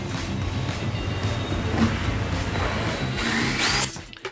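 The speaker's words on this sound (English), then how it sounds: "And then using the same drill bit, I'll drill through the hole." A power drill bores through the wooden leg of a homemade cornhole board, a steady close whirring grind that climbs in pitch near the end before cutting off.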